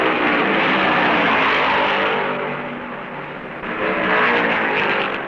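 Stock cars, including a high-wing Dodge Daytona and a Mercury Cyclone, roar around the track at the 1970 Southern 500, a loud, continuous engine drone that dips and then swells again as cars pass.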